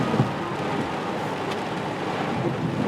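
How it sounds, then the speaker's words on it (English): Storm wind whips and rain falls near the beach, a steady, loud rushing roar with gusting buffets against the microphone and no voices. "The wind is whipping."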